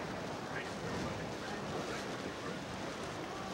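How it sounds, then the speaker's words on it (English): Strong wind gusts during Hurricane Hugo roar steadily into the microphone beside a car, a dense, unbroken rush of air that fills the whole clip with no clear voices. "Oh, another big gust coming up."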